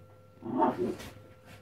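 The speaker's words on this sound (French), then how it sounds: "si vous entendez un hurlement, c'est mon petit chien qui fait l'andouille derrière" A small dog lets out a brief, close whimpering yelp that rises and falls, followed by faint sniffs.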